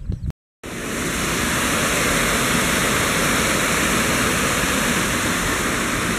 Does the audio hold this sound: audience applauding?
no